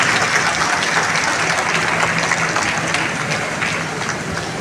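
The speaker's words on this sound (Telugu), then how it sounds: "సరే గట్టిగా చెప్పట్లు" An audience at a book launch breaks into loud, sustained applause, a thick roar of many clapping hands that fades slightly near the end.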